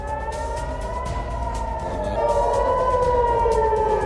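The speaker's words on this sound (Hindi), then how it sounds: "हमले के बाद पूरा इलाका अलर्ट सायरन से गूंज उठा।" A loud wailing air raid siren in Tel Aviv after a Houthi missile attack, its tones slowly gliding in pitch as the sound swells, continuous and dominating the scene.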